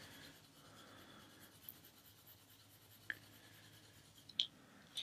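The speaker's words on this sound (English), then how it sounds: "These colored pencils, they seem to just blend so well on this paper and layer really well" Colored pencils shading and layering a light peach coat on paper, a faint, soft, steady scratching rub heard close up, with a few small taps and clicks.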